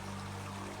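A steady wash of running water from a stream beside a campsite in the Dolly Sods Wilderness, continuous and fairly close with no voices.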